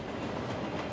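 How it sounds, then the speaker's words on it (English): A train rolls along a railway below a highway wreck site, giving a steady, broadband rumble and rattle that fills the brief moment with no voices. "Here comes the train now."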